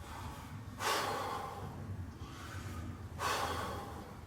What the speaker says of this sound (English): You take 3 deep breaths, go.